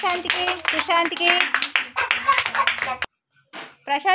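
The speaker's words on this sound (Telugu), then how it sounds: "క్లాప్స్ కట్టండి అందరూ ప్రశాంత్కి" Young children at an anganwadi preschool clap together for a classmate, a quick patter of small hands mixed with children's voices and talking, with a brief pause before a few more claps.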